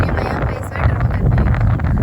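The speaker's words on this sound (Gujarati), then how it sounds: "પવનનો અવાજ બહુ આવતો હશે, પણ આવું જ છે આ ગામડું." Wind in an open village during a haldi ceremony buffets the microphone with loud, low, rumbling gusts that never let up over two seconds.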